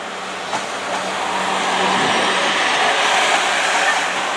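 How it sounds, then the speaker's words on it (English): A steady loud rushing roar of a Class 444 electric train passing close by at Weymouth, building slightly and holding constant throughout. "Here we've got class 444, which is my train to Bournemouth."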